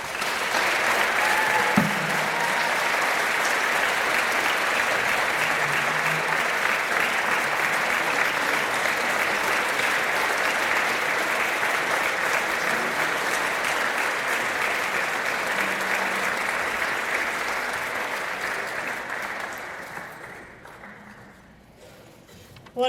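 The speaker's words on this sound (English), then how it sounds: "let's give them one more round of applause, all of them." Sustained audience applause at an athletics hall of fame ceremony, a dense, steady wash of clapping from a large crowd that fades out near the end.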